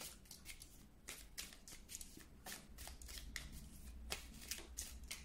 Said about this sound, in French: On va tirer quelques cartes.